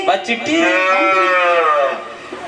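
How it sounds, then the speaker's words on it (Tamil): A cow lets out one long, drawn-out moo, loud and close, at a village folk music concert where cattle are being brought in. Faint background voices sit underneath. "மாடு கட்டி வர்றாங்க."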